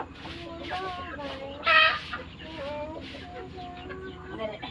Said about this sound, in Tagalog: Pakainin niya uli yung mga manok niya mga day.